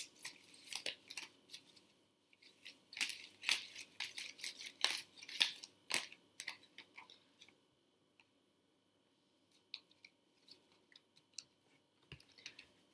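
Soft crisp flicks and riffling of oracle cards being shuffled in quick bursts, then sparse light taps and quiet pauses.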